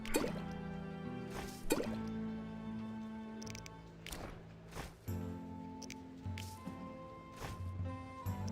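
Water drips in The Witcher, a series of wet plops and splashes spaced irregularly over a steady low ambient hum, fairly close and distinct.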